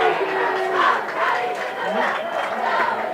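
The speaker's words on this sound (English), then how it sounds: "Aiden Houston on the sideline imploring the crowd to get riled up and cheer on their" Football crowd at a high school game against El Modena, a dense steady roar of voices cheering and yelling from the stands, loud and continuous throughout with individual shouts rising out of the mass.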